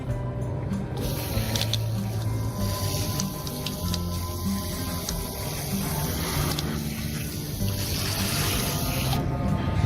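Water poured onto dry cocopeat growing medium and soaking into it, a steady, close wash of splashing and trickling that runs unbroken throughout.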